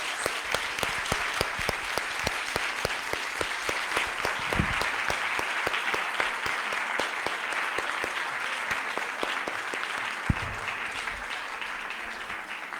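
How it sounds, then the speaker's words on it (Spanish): Steady applause from a university congress audience honoring a speaker. Dense, even clapping continues throughout, with several sharper individual claps standing out near the listener. "Un fuerte aplauso para usted"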